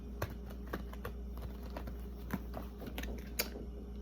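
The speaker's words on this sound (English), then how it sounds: "so I'm going to shuffle." Rider-Waite tarot card deck being shuffled, giving quiet, irregular papery flicks and soft taps that run steadily across the whole stretch, close by, with no talking.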